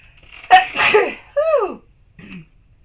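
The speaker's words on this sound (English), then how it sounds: "I knew there was a sneeze that was coming on through." A woman gives a single sharp sneeze, followed by a breathy sniff and a quieter trailing exhale, close and clear with no talk.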